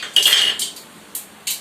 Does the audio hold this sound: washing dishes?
yes